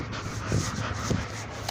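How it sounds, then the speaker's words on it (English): Puppies whimpering and panting, soft close-up yips and breathy whines over a steady, noisy indoor background, with no talk. "Oh, the puppies are here."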